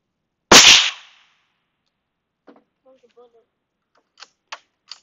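A .22 magnum rifle fires one sharp, loud shot at a target range, the crack quickly decaying, followed by faint voices talking and a few light clicks.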